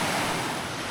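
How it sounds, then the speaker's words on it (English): Steady broadband rush of flowing water beside a campsite fire ring, close and continuous with an even, unbroken roar and no voices over it. "definitely you hear the water. You hear it good here."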